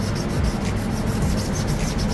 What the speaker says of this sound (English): il commence à égrener les surfaces avec du 400, du grain 400, et il termine au grain 2000